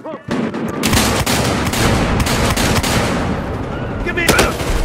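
Rapid automatic fire from a Thompson M1A1 submachine gun during a Conquest match on the Bank Job map in Battlefield Hardline on PS4, loud, dense bursts running nearly continuously with overlapping combat noise and a brief voice near the end.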